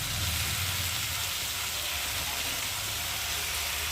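Chopped kolmi greens fry with spices in a pan, a continuous dense sizzling hiss that stays loud and even throughout, with no talking.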